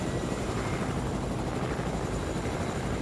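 A helicopter in a shooter video game drones with a steady, dense, loud rotor and engine roar that stays constant throughout, close and without talk.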